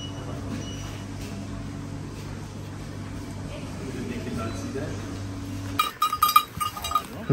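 Sheep bleat near Borgund Stave Church in Norway, a few short, close calls arriving abruptly after a steady low hum, with people talking around them.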